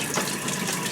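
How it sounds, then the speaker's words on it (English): Hot water gushes steadily from a tap supplied by a VEVOR tankless on-demand electric water heater, a close, even hiss of running water with no break. "So we're going to turn on the hot water and see if our unit functions."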